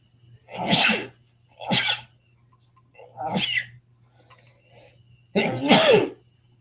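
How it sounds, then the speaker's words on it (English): Four sharp, loud human sneezes burst out at irregular intervals, each alone with short pauses between, over a faint steady electrical hum indoors. "I have been sneezing for like the last 4 days, just randomly."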